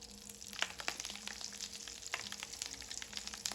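Green split pea fritters frying in a pan of oil, a steady soft sizzle with scattered crackling pops throughout, close and moderately quiet.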